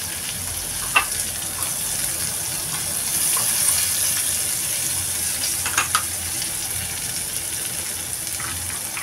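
Garlic fries steadily in a pan with a continuous hiss and sizzle, broken by occasional light pops and crackles, close and moderately loud.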